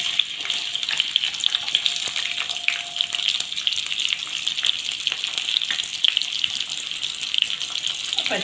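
Onion frying with tempering spices in a kadai for tomato rice, a steady crackling sizzle filling the whole stretch, close and fairly loud with no talking.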